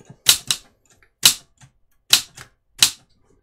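Antique Remington Remette typewriter keys strike sharply and close up, about six clacks in uneven bursts with short pauses between them, with no voices.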